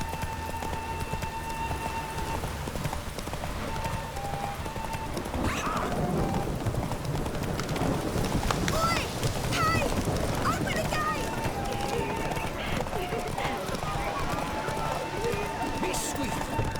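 Roach, Geralt's horse in The Witcher 3: Hearts of Stone, runs with steady clip-clopping hooves at a gallop over ambient game music, with spoken voices heard throughout.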